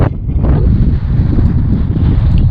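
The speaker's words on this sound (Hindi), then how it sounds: "बहुत तेज़ हवा चल रही थी और अभी भी चल रही है" Fierce, gusting wind at the Pangong lakeside cottages blasts across the microphone, a loud close roar that surges and dips without any voices.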